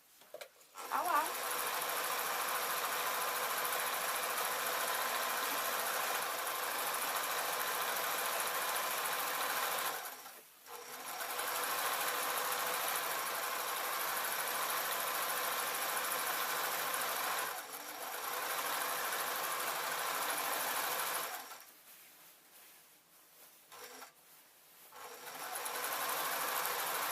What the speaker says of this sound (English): Check I'm actually still sewing.